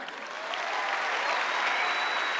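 Audience applause at a Forever success-day event in Delhi, a dense, steady clapping from a crowd that holds strong and even for the whole stretch with no talk over it.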